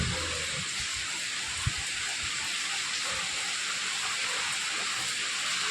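Rain falls as a steady, even hiss throughout, with one small knock partway through and no voices.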